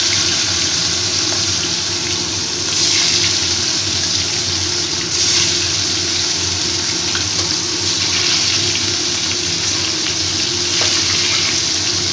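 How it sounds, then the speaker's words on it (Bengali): Katla fish frying in hot oil in a wok gives a steady, dense sizzle and crackle that holds evenly from start to finish, with a few brief louder bursts of spattering and no talking. "তেলটা এবার আস্তে আস্তে করে মাছটাকে আমি ভেজে নেব"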